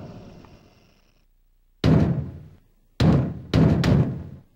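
Heavy banging on a door in Conker's Bad Fur Day: after a quiet hum, three loud, booming thuds strike close by, the last two in quick succession, each trailing off briefly.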